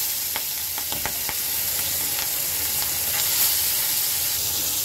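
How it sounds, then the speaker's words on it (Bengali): Fish sizzles in hot oil in a wok, a continuous bright hiss with scattered crackles and spits up close, no voices. "এখন আমি মাছগুলো ভেজে নেব।"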